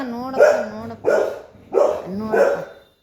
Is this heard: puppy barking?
yes